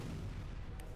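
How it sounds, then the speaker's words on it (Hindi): A distant explosion booms at night during a Russian strike in Ukraine, heard as a low, heavy rumble that fills the whole short moment without voices. "अंधेरे में होते अब जरा तेज धमाके को देखें"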